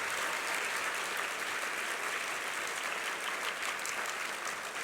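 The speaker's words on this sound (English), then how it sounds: "So give Sandy a big round of applause." Steady applause from a conference audience at a general session, dense and continuous clapping that holds at an even level throughout with no voices on top.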